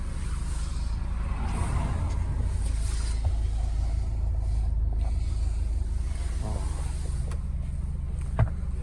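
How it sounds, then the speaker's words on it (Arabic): A Renault Clio 4's engine idles with a steady, low rumble without a break, with a few faint clicks and knocks over the drone. "هانتوما كتسمعوا الصوت ديال الموتور"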